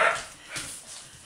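A dog gives a short bark followed by faint yips, close by and brief, with no talking.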